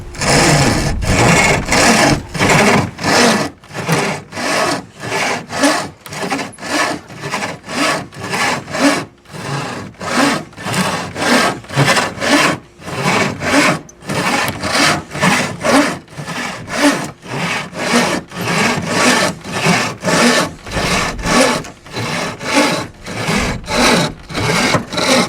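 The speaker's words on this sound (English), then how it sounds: "36-inch bow saw. Nope." A 36-inch bow saw cuts through wood in steady, rapid back-and-forth strokes, loud and close, continuing without a break and with no voices.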